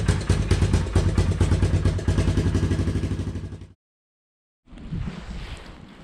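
Engine of a 1987 Honda TRX 350D ATV idling outdoors in the cold, a loud rapid putter that cuts to silence for about a second, then resumes as a rougher, wind-buffeted rumble.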